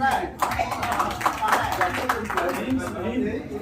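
Clapping from a rural audience at a village chaupal meeting on cow-based, zero-budget, multi-crop natural farming in Sevapuri, Varanasi. A steady patter of many hands runs for several seconds, mixed with voices talking over it.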